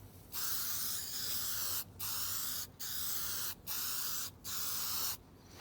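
An old Briggs and Stratton generator gets its first coat from a spray gun: five long, close hissing bursts separated by short pauses, with no talking.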